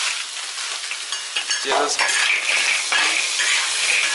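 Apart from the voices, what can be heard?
stir-frying river snails in a wok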